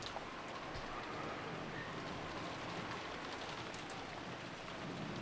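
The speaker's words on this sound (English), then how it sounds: "the cold drops of rain tormenting Maria were suddenly blocked." Steady rain from the visual novel game Umineko falls in an even, fairly soft hiss of dense drops, continuous throughout with no voices.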